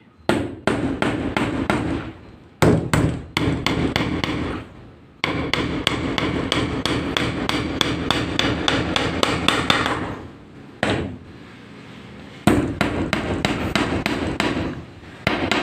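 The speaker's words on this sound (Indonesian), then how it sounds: "Ini tutorial cara memukulnya. Nah, jadi kita paku seperti ini." Nails are hammered into a GRC ceiling board on a wooden frame: a long run of sharp, loud, rapid blows, close up, broken by brief pauses between bursts.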